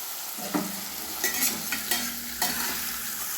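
Paneer frying in a pan, with a constant sizzle and a few sharp scraping strokes as the pieces are turned and stirred up close.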